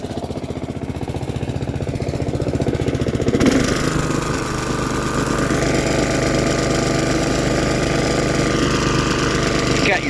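A Honda lawn mower engine runs steadily, first a rougher low chugging that shifts after a few seconds into a smoother, continuous drone with slight rises and falls in pitch, close and loud throughout.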